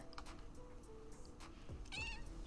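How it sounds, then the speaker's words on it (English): A cat in World of Warcraft gives a short meow near the end, over a steady game soundscape with soft ambient tones. "That sounds like a Rose cat"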